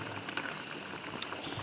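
Fish simmers in a pot of water with a soft continuous bubbling and hiss, with small pops and light clinks scattered through it, close and quiet with no talk.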